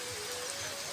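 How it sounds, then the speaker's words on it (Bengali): Steady patter of rain falling on a surface, dense and even, heard alone for a brief moment. "এই যে বৃষ্টি হইতেছে বৃষ্টি বৃষ্টি বৃষ্টি"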